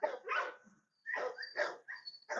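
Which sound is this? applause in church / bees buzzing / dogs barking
dogs barking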